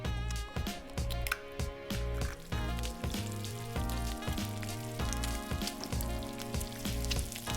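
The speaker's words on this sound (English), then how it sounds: "Hot enough to fry an egg." An egg frying in oil in a non-stick campfire pan on a portable cooktop, with a dense, steady crackling sizzle close up and no talking.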